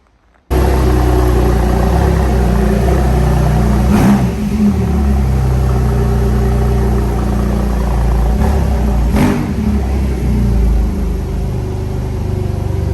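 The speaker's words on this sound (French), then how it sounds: "Là, l'accélérant, on a une 997 phase 2 qui va" A Porsche 997 Phase 2 fitted with a Remus exhaust accelerates with a loud, steady, full engine drone that stays up close throughout, broken by a couple of brief sharp transients.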